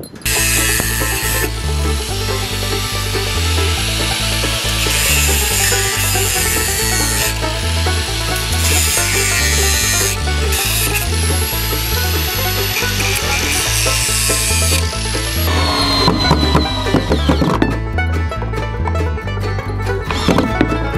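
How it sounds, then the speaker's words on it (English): An angle grinder cuts down long screws poking through a wooden pole jam build, giving a steady, loud, continuous grind that runs throughout under rhythmic background music. "The screws I used are too long and they're sticking through the other side, so I'm just gonna angle grind them down."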